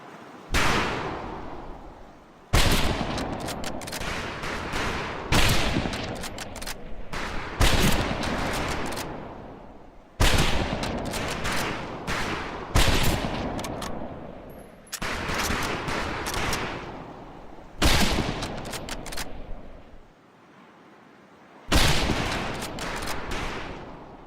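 Rifle volleys on a boot-camp target range in Medal of Honor: Pacific Assault: loud, sharp bursts of gunfire crack out in repeated clusters with short pauses between, reverberating into a lingering tail, with no talking.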